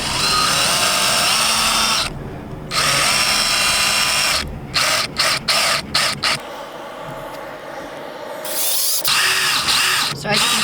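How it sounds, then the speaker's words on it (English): A power drill drives screws into a newly installed RV roof vent sealed with Dicor: loud whirring runs in several bursts, broken by brief pauses and stuttering stops, close to the microphone. "then we will put the screws in"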